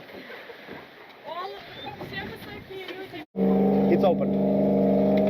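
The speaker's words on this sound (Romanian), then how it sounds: "Și râul se traversează cu această mașină." A vehicle used to cross a river in a restricted zone of Kyrgyzstan starts up with a loud, steady engine drone after a brief gap, following a stretch of voices and background clatter; a person speaks briefly.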